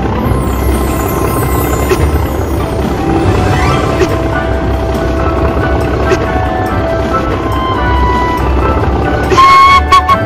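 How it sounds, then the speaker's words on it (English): A train rumbling past near the Glenfinnan Viaduct in the Scottish Highlands, a loud, steady mechanical roar with wheel and rail noise, and a brief whistle-like tone near the end. "I'm just going to hunker down here and wait for the train."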